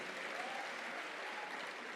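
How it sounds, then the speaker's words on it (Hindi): An audience at a CMA student festival applauds steadily, a dense, even patter of many hands clapping together for the whole two seconds. "लेकिन इसकी ऑनेस्टी के लिए ताली बजनी चाहिए"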